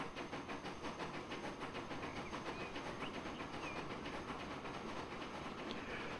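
In the Transport Fever 2 video game, a long train runs on rails with a soft, continuous rolling rumble and faint clicking, quiet and steady throughout.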